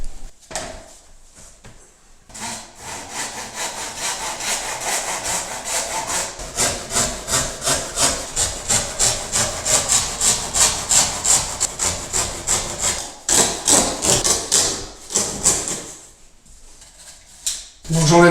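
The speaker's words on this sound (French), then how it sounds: "je vais le couper avec la scie." A hand saw cuts through the thin MDF tongue of laminate flooring in quick, rhythmic rasping strokes, loud and close, with brief pauses before and after the sawing.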